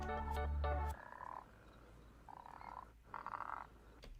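A frog croaks in a few drawn-out, buzzing calls, starting with a louder harmonic burst and then steadier croaks, set against faint outdoor background noise.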